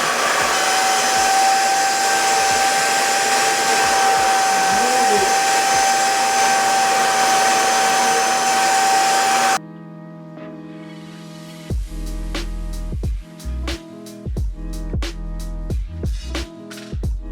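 A Bissell portable carpet spot cleaner works on a red wine stain with a loud, steady motor and suction roar for about nine seconds. It then cuts off, and scattered knocks and handling sounds follow.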